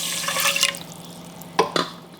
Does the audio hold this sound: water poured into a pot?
yes